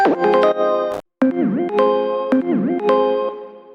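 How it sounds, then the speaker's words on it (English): FM synth operators in an electronic production, with the MIDI pitch bend modulated so the tones swoop and bend together in a repeating wobbling pattern, heavy with echo and chorus-like effects after a brief dropout. "So this is what makes everything sort of bend together."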